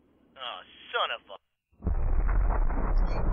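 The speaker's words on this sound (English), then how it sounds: "There goes the explosion." A brief voice is followed by a short silence, then an explosion in the Red vs Blue series erupts into a loud, sustained rumbling blast that fills the rest of the moment.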